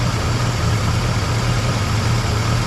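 A carbureted engine idles steadily and loudly up close, its even low rumble running without a break and with no voices.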